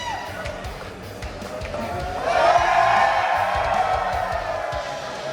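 Crowd at an ESPN the Ocho bags (cornhole) competition cheering and whooping, a rising swell of shouts that grows louder midway, with someone talking underneath.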